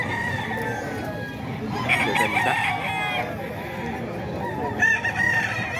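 Roosters crow repeatedly at a gamefowl sales yard in Bocaue, a rooster owned by one man among them, with clucking and busy crowd chatter around; someone speaks over the birds.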